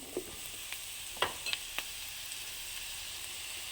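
A mushroom curry mixture fries in a pan with a faint, even sizzle and a few soft clicks and taps from stirring, quiet and close, with no one talking.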